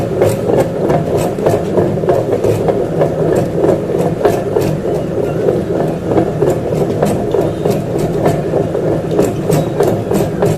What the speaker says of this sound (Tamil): உளுந்த மாவு லாஸ்ட்டாக வலிக்கும் போது என்ன சவுண்டு கேட்கும்